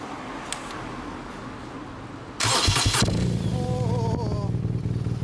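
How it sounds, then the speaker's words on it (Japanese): A 2016 BMW R nineT Special Edition boxer-twin motorcycle with reversed mufflers: quiet ambience, then the engine cranks and fires loudly at about 2.4 seconds and settles into a steady, close, throbbing idle with a brief chirp of a voice. "すみません、エンジン音聞かせてください。"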